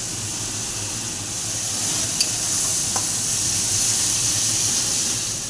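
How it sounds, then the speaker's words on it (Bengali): Ground spices and chili powder sizzle steadily as they are stirred and fried in oil in a pan with a little sugar added, a continuous close hiss with faint scraping and no voices. "এই মশলাগুলো ভালো করে কষিয়ে নিচ্ছি।"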